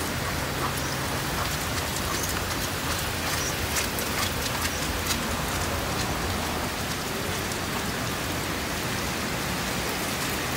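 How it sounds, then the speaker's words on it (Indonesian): Rain pours steadily on a hot-spring resort in the Osaka area of Japan, a dense, even hiss of drops with no voices. "Lagi hujan, teman-teman."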